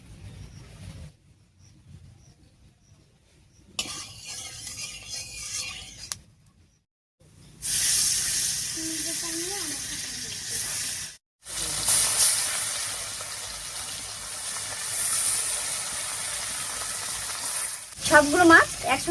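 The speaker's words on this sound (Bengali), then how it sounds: "মাছগুলো মেখে নিয়েছি, এবারে কড়াই সরষের তেল দিয়ে হালকা করে ভেজে নিচ্ছি।" Pieces of river fish, rubbed with salt and turmeric, fry in mustard oil in a wok for a village-style curry. A close, steady sizzle and hiss breaks off in places, and stirring clatter comes near the end.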